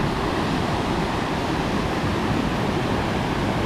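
A waterfall on a Pyrenees mountain hike toward Pico Posets, a loud, steady rushing roar of falling water that fills the whole span without pause or change.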